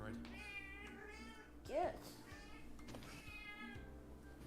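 A pet cat gives a single clear meow, close and short, in the middle of quiet indoor conversation as people talk before and after it.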